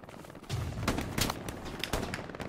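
Single rifle shots ring out in the Hell Let Loose World War II shooter at night, several sharp cracks spaced irregularly over steady battlefield rumble, with no talking.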